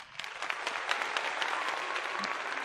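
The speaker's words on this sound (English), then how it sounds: "give her applause, you guys" Audience applause at an online radio aftershow, steady dense clapping throughout at moderate loudness with no talk over it.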